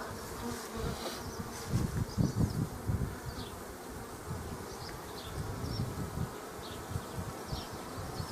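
A swarm of bees hums steadily near an apiary in Tetiiv, a dense buzzing drone with individual bees whizzing past close by, alone with no talk.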